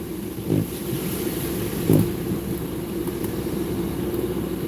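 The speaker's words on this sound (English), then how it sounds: "Oh, there goes a plow truck or a garbage truck." A snow plow truck or garbage truck rolls past on a snowy day, a low, steady engine rumble with two brief louder swells, heard at a moderate distance with no talking.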